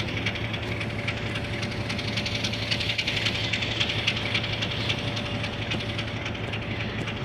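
An oil tanker goods train rolls steadily through a station loop line at roughly 60 km/h. It makes a continuous close rumble with a hissing wash and a faint steady tone, and there is no talk.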